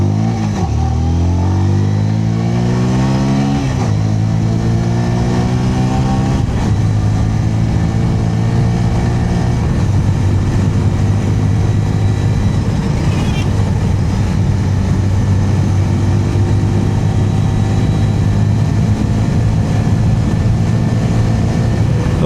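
A 2026 Bajaj Pulsar 125 Carbon with a two-valve air-cooled single-cylinder engine is revved up, its exhaust climbing in repeated rising pulls before settling into a steady, loud drone, close to the listener with no talking.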